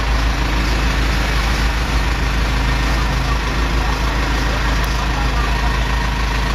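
A motorcycle engine idles steadily in an outdoor setting in Basilan, a loud continuous low rumble with a broad noisy hiss that holds constant throughout, with no talking.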